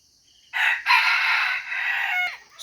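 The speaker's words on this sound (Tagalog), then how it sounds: "kung maririnig nyo, yan po yung tilaok ng pangalawang huli natin" Newly caught wild junglefowl rooster crowing close by, one loud drawn-out call of about two seconds with a brief break near the start, in otherwise quiet surroundings.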